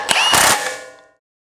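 Tool tightening a lock nut on a Needham Ag V8 firming wheel: a short, loud mechanical ratcheting whir lasting about a second, then fading out.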